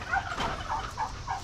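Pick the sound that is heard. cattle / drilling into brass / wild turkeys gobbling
wild turkeys gobbling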